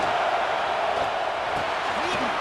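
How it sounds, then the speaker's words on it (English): Stadium crowd in EA Sports College Football 26, a steady, dense roar of fans that stays loud and continuous throughout, with faint whoops rising out of the wash. "This crowd trying to make life miserable for this offense."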